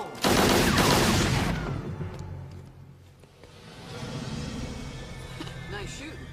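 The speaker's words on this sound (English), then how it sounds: "Nice shooting, Tex. You just shot yourself a dead man." A burst of film gunfire from the low-budget dinosaur horror Carnosaur 3: Primal Species, loud and dense for the first second and a half, then fading into quieter rumble and background sound.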